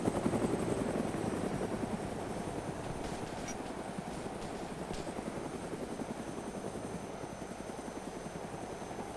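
A helicopter in the video game DayZ, heard from inside as a steady, droning rotor chop that stays even and continuous throughout, with no talking.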